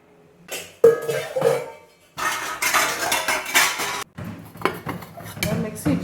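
Dishes, cutlery and milk pots clink and rattle while being handled from a Bosch 13-place dishwasher, in close, busy bursts of metallic clatter with someone talking over parts.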